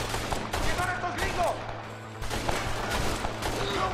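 Rapid gunfire from a Red Dead Redemption shootout, repeated close sharp shots in quick bursts over a constant low rumble, with a short lull in the middle before the firing resumes.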